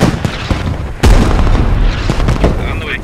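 A hail cannon round explodes in the military shooter Squad: one deep, heavy boom with a long rumbling tail, plus a few smaller distant bangs around it, while a voice talks.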